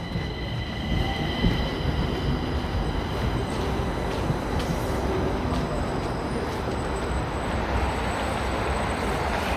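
Stockholm metro train at Alvik station in icy winter weather: a continuous rail rumble with rising metallic wheel squeals and hum, moderately near, with no talking.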